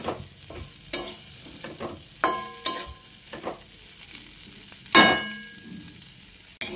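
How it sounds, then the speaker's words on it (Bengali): Okra and scrambled egg stir-fried in a pan: a spatula scrapes and clatters in irregular bursts over a low sizzle, with a sharper clang near the end. "তারপর আরও বেশ কিছুক্ষণ এইভাবে নেড়েচেড়ে ভেজে নিতে হবে।"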